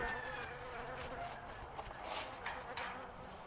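Honeybees buzz around a beehive in a soft, steady outdoor drone that stays fairly faint throughout.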